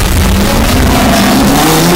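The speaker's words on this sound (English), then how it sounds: "Sound effects like car sounds..." Car engine revving as a sound effect, a loud, close, continuous engine drone with a slowly climbing pitch, alone without any talk.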